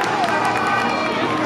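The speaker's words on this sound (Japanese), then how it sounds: "大きな声が飛んでおります" Spectators at a boat race stadium shout loudly during the rider introductions for a legends cup final, a brief dense burst of overlapping voices and cheers close to the microphone.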